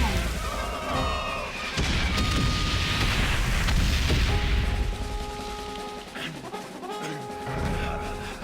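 Loud game explosions and booming blasts roll one after another, with crashes and gunfire mixed in throughout.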